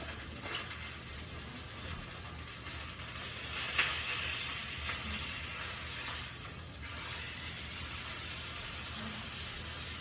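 Food sizzles steadily in a hot frying pan during a cooking demonstration, a constant hissing crackle with a few brief clicks and scrapes as it is flipped, with no talking over it.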